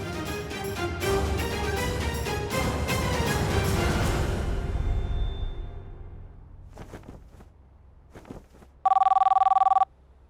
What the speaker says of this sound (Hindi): लैंडलाइन पर फोन